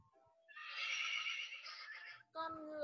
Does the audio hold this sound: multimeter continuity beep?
no